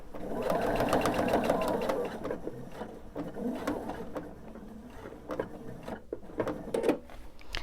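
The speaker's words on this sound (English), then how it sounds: "I want to sew until I get onto this seam" A domestic sewing machine runs steadily for about two seconds as it quilts along a seam, then stops and gives a few short bursts and clicks toward the needle-down position. Faint talk sits under the mechanical hum.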